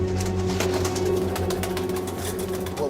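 Pigeons cooing in a loft, soft low coos layered over a steady hum and rumble of background noise, several birds close by without talk.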